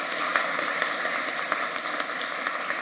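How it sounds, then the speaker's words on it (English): Audience applause at a Royal College of Physicians of Ireland membership ceremony, a steady, moderately distant wash of clapping with scattered sharper claps throughout. "So maybe an applause again for"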